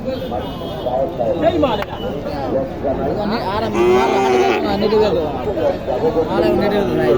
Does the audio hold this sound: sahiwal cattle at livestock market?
yes